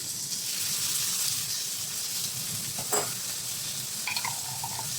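Water spinach with crab paste being stirred in a hot pan, a loud continuous sizzle and hiss with a brief scrape of the spatula near the end, close and without speech.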